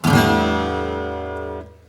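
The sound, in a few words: guitar open strings strummed in standard tuning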